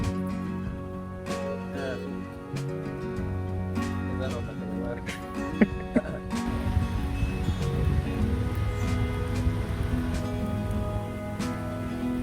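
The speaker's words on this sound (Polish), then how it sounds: "Czekamy na koniec deszczu, czy idziemy?" Rain falls in Lisbon's Belém district, a steady close patter with scattered drips, under ongoing voices talking.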